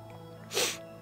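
A single short, sharp sneeze bursts out close by over a low, steady background hum.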